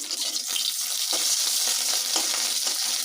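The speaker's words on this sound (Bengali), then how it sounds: "এখন আমি কড়াইয়ের মধ্যে কিছু সুটকি ভেজে নিচ্ছি" Steady, dense sizzling of dried fish frying in hot oil in a wok, close and continuous, with occasional soft stirring scrapes and no voices.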